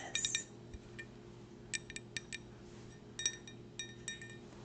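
Fingernails tap and clink on a souvenir drinking glass in short light bursts of two to four bright ticks, close and soft, against a faint steady hum in a quiet room.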